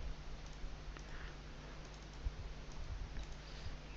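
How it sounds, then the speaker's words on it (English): Soft, quick clicking of keys on a computer keyboard as an IP address is entered during Windows Server 2012 setup, faint and close with irregular keystroke rhythm over a low hum. "I'm going to type my network IP address range"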